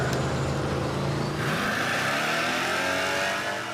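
A donk car on a drag strip test run revs hard and close, its engine tone climbing sharply after a steady idle-like rumble.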